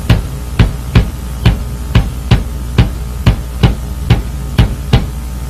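A bass drum thumps steady quarter notes, about two beats per second, punchy and close with nothing else playing.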